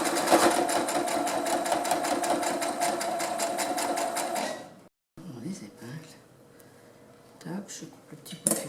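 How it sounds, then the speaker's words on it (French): A sewing machine stitches steadily through thick fabric for a face mask, a close rapid whirring that halts after about four seconds, followed by quiet handling clicks and rustles. "je vais faire une petite couture tout autour. Alors bien entendu, les tissus est épais quand même, hein. Donc la machine elle risque de, voilà, avoir du mal le passage"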